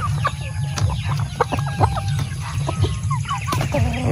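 Rhode Island chickens on a heritage chicken farm clucking steadily, with repeated close clucks and soft calls from several birds over a constant low mechanical hum.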